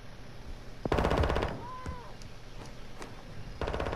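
Rapid bursts of automatic gunfire in a video game, two loud rattling volleys about two seconds apart with a few scattered single shots between, over a low game background.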